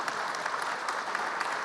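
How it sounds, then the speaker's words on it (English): Steady applause fills a panel discussion venue, many hands clapping in an even, continuous patter at moderate volume with no voices over it. "Madam MC, I think you should call for a big round of applause for the audience"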